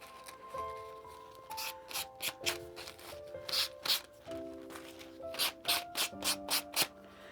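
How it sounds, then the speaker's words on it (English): An emery board sands a painted decoupage surface on an upcycled thrift piece in short, rhythmic scratchy strokes, quiet and close, over soft melodic background tones. "I'm just going to take a little emery board."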